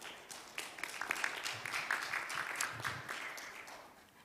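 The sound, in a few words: applause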